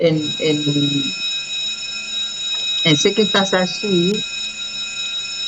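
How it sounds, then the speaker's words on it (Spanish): A school bell rings steadily for recess, a continuous electric tone running through the whole stretch while people talk over it. "Ese es el timbre del colegio que vamos al recreo."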